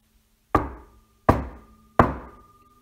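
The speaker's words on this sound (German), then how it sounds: "Am Haus der Großmutter klopfte er an die Tür." Three sharp knocks on a wooden door, evenly spaced and fairly close, each with a short ringing decay, as the wolf raps at the grandmother's house in the Little Red Riding Hood tale; no voices.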